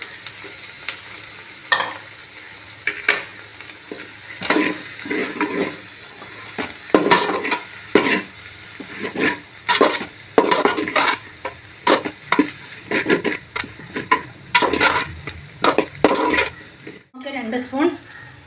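Scrambled egg and chicken being stir-fried into homely-style chicken fried rice, with a spatula scraping and clanking against the pan in a steady, repeated rhythm over a soft background sizzle, close and fairly loud.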